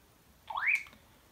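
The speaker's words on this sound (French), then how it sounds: "Il y a un dernier mode qui est un petit peu une sorte de mode alarme." A Baofeng UV-5R handheld radio sounds its alarm mode as one short, faint rising electronic whoop in a quiet room.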